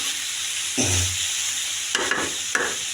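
Chicken pieces fry in a pan for chicken bhuna, making a constant hissing sizzle. A few distinct scraping stirs with a spatula cut through it, close by and without speech.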